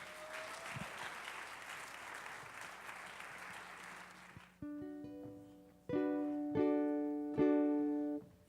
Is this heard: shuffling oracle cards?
no